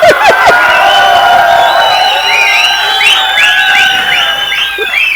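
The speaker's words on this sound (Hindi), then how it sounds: "ये तालियां इन लोग मारे इनकी फीलिंग से," An audience at a press conference cheers and whistles loudly, with shouts and crowd noise rising over sustained applause and high whoops throughout.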